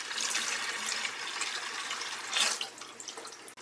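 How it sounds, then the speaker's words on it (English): Python siphon hose draining water from a turtle aquarium, a steady close rushing, gurgling flow with a brief louder surge partway through. "Just give it some squeezes. Starts the siphon."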